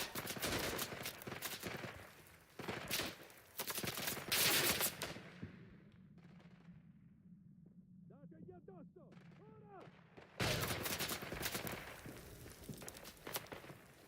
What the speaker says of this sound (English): Looks like an MG position firing on us.